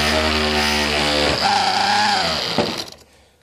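A nitro model engine in break-in briefly firing up, a loud buzzing whine that shifts pitch midway, then sputters and dies out near the end.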